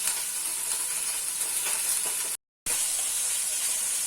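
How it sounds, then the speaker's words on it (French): Lamb meat sears in a pan as it browns on all sides, with a loud, continuous close-up sizzling hiss and a brief dropout midway. "on va bien colorer sur toutes les faces de la viande"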